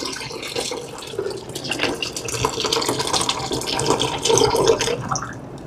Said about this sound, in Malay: Kita masukkan air.